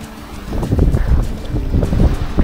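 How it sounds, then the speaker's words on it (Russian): Strong wind by the sea in Thailand buffets the microphone in low, rumbling gusts that swell and dip unevenly, loud and close, with no talking. "потому что ветер очень сильный"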